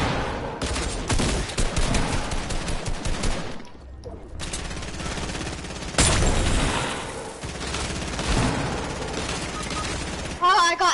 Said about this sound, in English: Oh, someone got a minigun, bro.